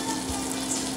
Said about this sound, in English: So now that butter has to melt.